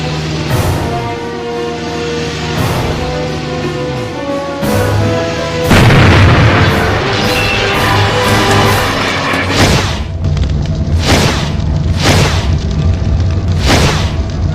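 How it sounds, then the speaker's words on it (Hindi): Film sound of a rickshaw bomb blast on a bypass road: a series of loud, deep booms and crashing bursts, several heavy impacts spaced across the stretch, with rumbling tails and sharper hits toward the end. "यहाँ बाईपास पे रिक्शा ब्लास्ट हुई है"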